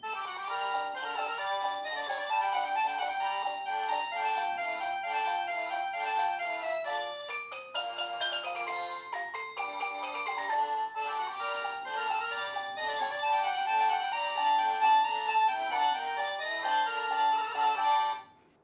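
A Christmas-themed ringtone from a MECO smart home doorbell chime, a clear, tinkly electronic tune with layered bell-like notes that plays continuously at an even level, then stops abruptly at the end.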